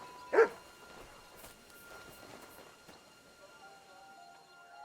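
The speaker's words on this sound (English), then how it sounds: "What are you barking for?" A single sharp dog bark rings out near the start of Kingdom Come: Deliverance 2 gameplay, followed by quiet game-like ambience with faint tones and soft background noise.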